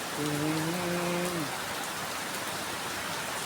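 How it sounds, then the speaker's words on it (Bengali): Steady rain pours down in Nilphamari, a dense, even hiss of drops on surfaces that fills the whole stretch, with a short human voice briefly heard over it at the start. "খুব সুন্দর বৃষ্টি হচ্ছে"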